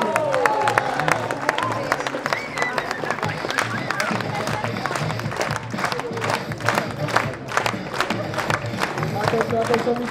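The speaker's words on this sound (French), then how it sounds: "On peut l'applaudir." A live audience at a show in Neuchâtel applauds a performer, dense sharp clapping mixed with crowd noise and scattered cheers, with voices audible through it.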